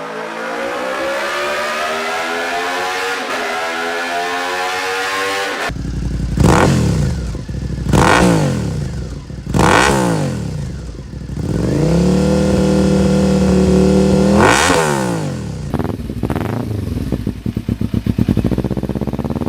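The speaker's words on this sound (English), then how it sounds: "the Yoshis definitely back up these huge numbers with an exhaust tone that anyone can get behind" A sportbike with a Yoshimura aftermarket exhaust idles with a rough exhaust note, then is revved hard several times in sharp rising and falling bursts, loud and close, before settling back.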